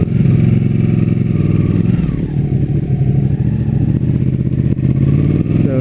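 Ducati 959 Panigale superbike, 2016, ridden in race mode at full power, its engine giving a loud, steady mid-range drone that rises and falls slightly with throttle, close up and without any talk.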